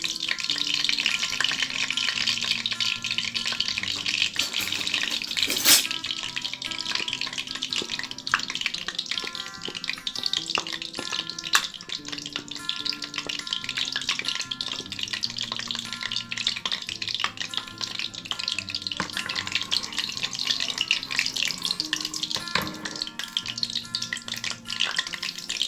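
Oil heats in a hot pan with a continuous hiss of frying and sizzling. It sounds close and moderately loud, with occasional clinks and stirring noises throughout.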